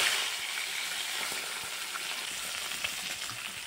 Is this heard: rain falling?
no